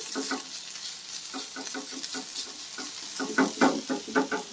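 Red ponnaganti greens sizzle in a pan as they are stirred, giving repeated close scraping strokes in quick bursts over a steady frying hiss, with no talking.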